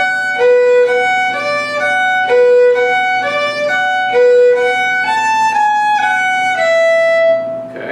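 A solo violin plays the second section of the fiddle tune Devil's Dream, a quick run of clear bowed notes in an even rhythm with no talking, close and steady.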